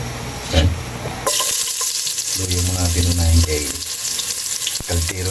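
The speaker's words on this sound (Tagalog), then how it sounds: "Kapag papainit natin mantika, mag-upos na tayo kaili mag-gigisa. Kaili, ilagay na natin kaili yung luya." Ginger sizzles loudly in hot oil for pork sinigang, a close, steady frying hiss with stirring scrapes. A short splash surges at the start, and no one speaks.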